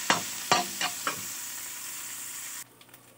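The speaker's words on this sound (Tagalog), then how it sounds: "Ayan, magigisa muna tayo. Palutuin muna natin yung ating bawang." Garlic and onion fry in hot margarine in a pan with a loud, steady sizzle and a few quick stirring scrapes near the start, then the sizzle drops off sharply near the end.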